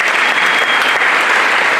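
Audience applause at an all-star big band concert, a dense, steady wash of clapping from a large crowd, loud and sustained with no voices above it.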